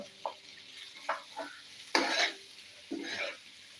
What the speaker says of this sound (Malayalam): ഇതിൽ നന്നായിട്ട് ഇളക്കി കൊടുക്കാം